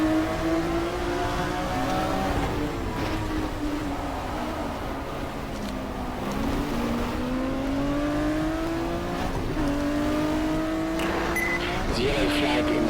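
Race car engines howl continuously through a Kyalami race in the GTR2 sim, with shifting engine tones rising and dropping across gear changes, steady and loud, while a voice talks over the top.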